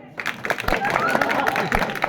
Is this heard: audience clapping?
yes